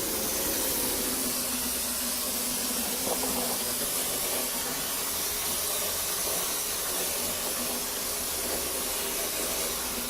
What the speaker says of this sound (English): This air sprayer that I'm using puts down a nice 1/4-inch layer of concrete